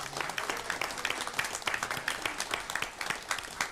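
A church congregation applauds during a New Year's Eve worship service, steady dense clapping from many people in a large room, moderately loud and continuous throughout.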